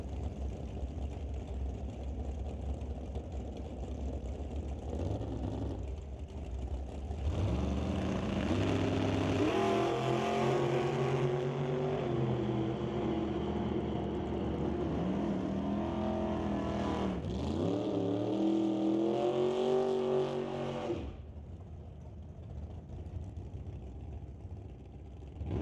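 A pair of dragsters on a 1/8 mile drag strip idle, then roar loudly as engines rev hard off the line, the sound swelling and holding before cutting off sharply and dropping back to a steady background rumble.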